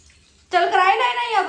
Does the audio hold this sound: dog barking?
no